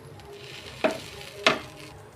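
A bread sandwich goes into hot butter in a frying pan, giving a low steady sizzle with two sharp louder hisses or clatters as it is placed and shifted, close by with no voices.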